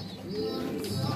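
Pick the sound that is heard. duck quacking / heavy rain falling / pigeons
pigeons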